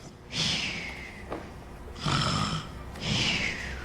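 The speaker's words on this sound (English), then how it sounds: "My, that grandmother has a mighty snore." Three loud, drawn-out snores from a wolf character napping in bed during a staged Into the Woods storytelling performance, each breathy and rasping, with short pauses between them.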